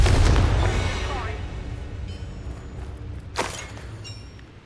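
A Confringo fire spell blast in the video game Hogwarts Legacy bursts loudly at the start and its heavy low rumble slowly fades. A sharp crack follows a few seconds later amid ongoing combat noise.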